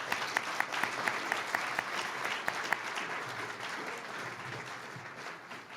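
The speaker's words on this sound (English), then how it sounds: "I think we can applaud all of them now." An audience at a lecture on Afghanistan and Pakistan claps warmly, a steady round of applause with a few sharper claps standing out, gradually thinning toward the end.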